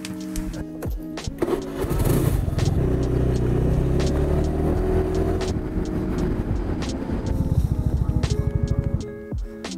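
A motorbike ride to a Starbucks, with a low rumbling engine and road noise building and holding for several seconds, then a rapid pulsing idle before it cuts off, with scattered clicks and knocks.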